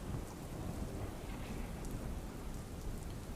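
Monsoon rain showers fall with gusting wind in Banaskantha, a steady, faint hiss of rainfall with soft rumbling underneath, unbroken and without voices.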